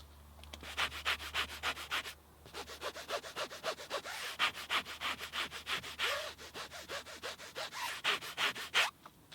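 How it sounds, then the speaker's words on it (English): Fingernails scratch back and forth over freshly cleaned car seat fabric in a rapid, rhythmic rasp, close and fairly quiet, with a couple of short pauses and no speech. "I sort of ran my nails over the surface, so I'll stop talking now so you can kind of hear the difference"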